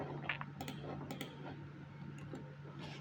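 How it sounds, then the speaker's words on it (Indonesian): Keys on a computer keyboard are typed while someone completes a document during an office-application exam. The keystrokes are soft and scattered, with a few clustered clicks over a steady low hum, and no talking. "Kemudian terakhir kita ketikkan tag yang ini."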